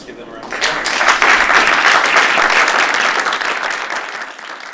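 An audience at a Western Washington University presentation breaks into hearty applause for the semifinalist teams, a dense, sustained wash of many hands clapping at close range for about five seconds.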